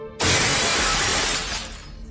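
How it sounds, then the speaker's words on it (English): Mirrors shatter in unison as a sound effect, a sudden loud crash of breaking glass that rings on and fades over about two seconds. "It got louder and louder until they heard the mirrors shatter in unison."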